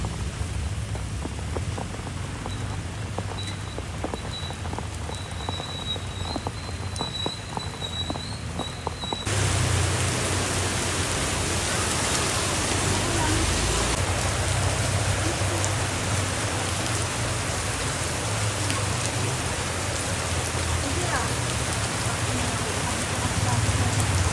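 Steady heavy rain pours down throughout, a dense hiss of drops on surfaces that grows louder partway through, with faint voices underneath.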